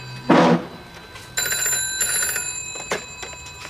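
A telephone rings in bursts of bright, insistent bell tones, a short first ring followed by a longer trill, close and loud in a quiet room.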